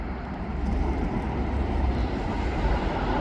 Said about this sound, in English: Seeing the planes landing.